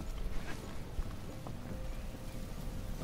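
Hooves clop in a quick, even gallop as a horse runs across open ground in Metal Gear Solid V: The Phantom Pain, the rhythm steady and moderately close.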